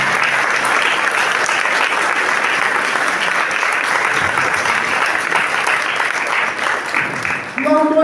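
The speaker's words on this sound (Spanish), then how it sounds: "Denle un aplauso fuerte." Loud, sustained applause from a church congregation at a Sunday service fills the space steadily, then thins near the end as a few brighter tones break through.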